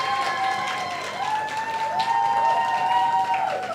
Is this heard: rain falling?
no